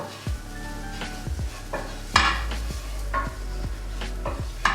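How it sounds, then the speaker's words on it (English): Smoked paprika being stirred into a hot pan, giving regular scraping strokes roughly once a second against a steady sizzle and low hum, close and clear. "Give it a stir and turn the heat down."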